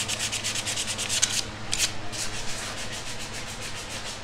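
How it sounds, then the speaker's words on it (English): Steady hand sanding of rusted metal, a rough back-and-forth rasp repeating in quick strokes, close and fairly loud with no voices. "it was kind of rusted up looking, but now he's sanding it down"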